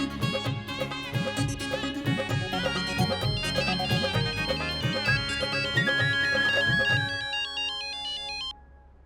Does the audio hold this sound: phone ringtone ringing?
yes